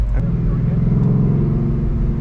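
A Ford Mustang RTR Spec 5 10th Anniversary Edition idling at Circuit of the Americas, its engine a loud, steady, deep rumble filling the short stretch.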